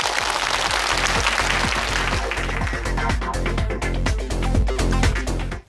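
An audience on a Chinese television stage show applauds to welcome a young crosstalk comedian, with loud, sustained clapping over a rhythmic musical beat and a brief cutoff at the end.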